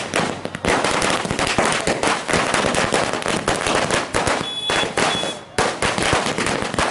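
Firecrackers going off at a street celebration by BJP and JDU party workers in Bihar, dense rapid crackling bursts loud and continuous throughout, with a brief pause near the end before the popping resumes.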